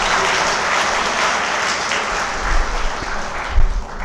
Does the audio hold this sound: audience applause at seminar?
yes